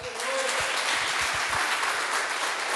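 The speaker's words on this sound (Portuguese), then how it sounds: "Dê um aplauso a Jesus." A congregation at a spiritual worship service breaks into sustained applause, a broad continuous clapping wash with a few low thumps and a faint voice briefly audible early on.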